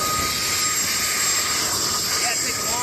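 CH-47 Chinook helicopter ground run at Peoria Airport, a steady loud roar of turbine engines and APU with a high whine, continuous and unbroken throughout.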